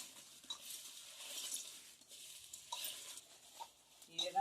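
Mango pickle pieces are stirred with salt, chili powder and mustard powder, giving soft, wet scraping and mixing sounds in uneven strokes with a faint clink near the end.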